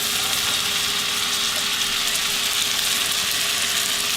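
Mushrooms and onion frying in a pan for Southern-style Salisbury steak, a constant even sizzle and hiss throughout with no talking.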